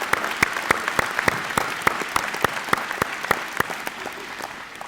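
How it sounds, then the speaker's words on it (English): Steady applause fills a graduation ceremony at a technical institute, a crowd clapping at a moderate distance with an even, continuous rhythm for several seconds and no voices over it. "let's give them a round of applause."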